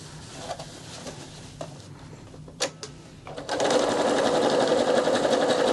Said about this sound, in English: So let's switch over to zigzag, and just serge the ends.